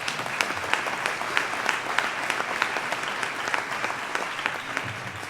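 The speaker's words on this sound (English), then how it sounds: "Let's give them a round of applause for that." A crowd at a Mercer County State of the County address gives a steady round of applause, dense, even clapping at moderate distance, with a few sharper individual claps standing out throughout.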